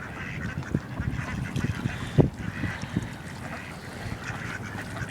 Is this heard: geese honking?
yes